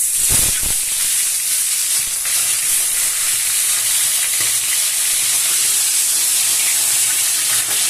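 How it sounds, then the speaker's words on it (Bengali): Loud, dense sizzling of katla fish heads frying in hot mustard oil, hissing continuously and close, with a couple of bumps at the start. "তেল গরম হয়ে গেছে, মাছের মাথা দুটো আমি এইভাবে দিয়ে"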